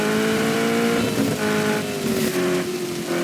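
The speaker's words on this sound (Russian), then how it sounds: "Ревет как движок у нас." A car engine roars in the action game Just Cause 3, loud and close, pitch gliding and shifting as it revs and accelerates, with a hint of tire noise and no talk.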